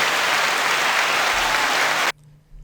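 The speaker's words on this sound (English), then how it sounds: "So everybody, let's give Cage Casey a round of applause." Loud, dense applause for a Denver Broncos draft pick fills the room, then cuts off abruptly, leaving near silence.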